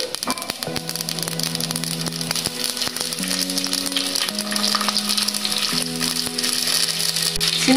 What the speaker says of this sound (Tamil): பொரிஞ்சு வரும்போது இந்த சின்ன வெங்காயத்தை இதுக்குள்ளே போடுவேன்